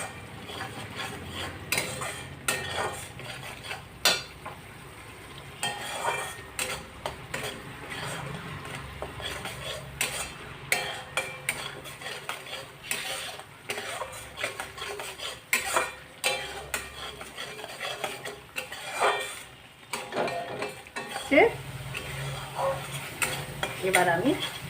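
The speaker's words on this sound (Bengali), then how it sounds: "এই সর্ষে বাটাটা আমি মিনিট খানেক নাড়াচাড়া করে নেব" Mustard paste stirred in a pan for a parshe fish curry: repeated scraping and clinking of a spoon against the pan over a soft sizzle, rhythmic and close, with no voices.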